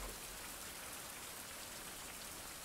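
Steady rain in the video game Survive: The Fountain of Youth, a dense, even hiss of falling drops that fills the whole moment without pause or voices.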